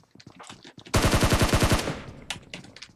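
PP-Bizon submachine gun fire in PUBG Mobile: a rapid burst of about a dozen loud, evenly spaced shots, preceded and followed by scattered fainter gunfire and clicks.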